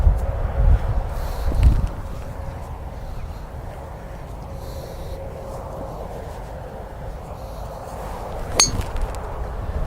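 Strong gusting wind on a golf course buffets the microphone in a steady low rumble, with a brief clink near the end and no talking.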